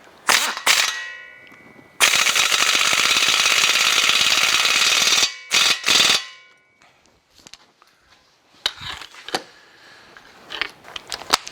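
An air impact gun hammers at a suspension bolt on a 2015 Subaru Forester, with a short burst, a long sustained rattling run, then a few brief bursts, and scattered clanks of tools afterward.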